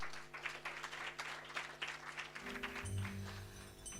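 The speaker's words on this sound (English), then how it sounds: "Give her a round of applause, please." Audience at an event applauding a performer, a scattered run of clapping that thins out as a low hum and music-like tones take over toward the end.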